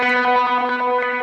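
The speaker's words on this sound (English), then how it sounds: "adding just a little bit of high octave, some distortion, and it has this filter that just chops up the sound" Electric guitar played through a Line6 Helix with a high octave, distortion and a chopping filter gives a dense, buzzing harmonic tone pulsing in quick rhythmic chops, loud and alone for just over a second.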